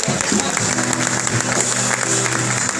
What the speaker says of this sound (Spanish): Alguien aplauda a Dios por eso.